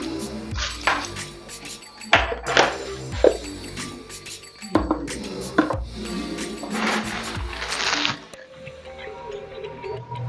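A metal pan is set on a stove, giving sharp clanks and clinks that ring in several separate bursts, followed by softer handling noises as coconut oil goes in, all close up.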